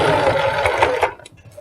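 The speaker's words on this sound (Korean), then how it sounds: "박았던 부분을 대박음질하지 않고 또 박아줍니다" A sewing machine stitches a trouser waistband during an alteration, its motor buzzing close and loud in one short run of about a second before stopping.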